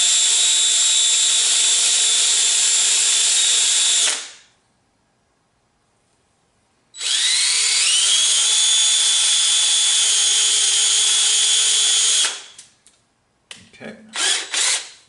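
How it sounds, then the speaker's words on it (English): A cordless drill whirs steadily while spinning parts against a Scotch-Brite abrasive pad, running loud for about four seconds, stopping, then spinning up again for several more seconds before winding down with a few short rattles. "chuck them into the cordless drill, take a thing of Scotch-Brite and run it"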